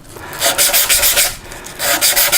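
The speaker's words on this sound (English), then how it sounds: "I take some strips of 120 grit sandpaper, just cut them in strips like this here so I can wrap it around" Strips of 120 grit sandpaper rub back and forth across a carved wooden guitar top in quick, loud, rhythmic strokes, a steady scratchy swishing with a brief pause midway.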